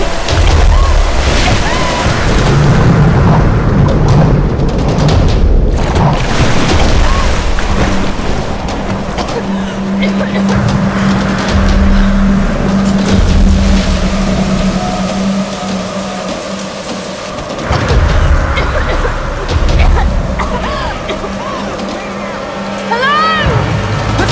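A shipwreck cutscene in the Tomb Raider video game, with roaring wind, surging waves and a storm-tossed vessel sounding continuously and loud, while voices speak over the din.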